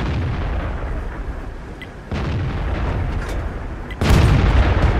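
Tank cannon fire in a Centurion Action X tank video game: a heavy, broad blast around the midpoint and another louder boom near the end over continuous rumbling engine and battle noise.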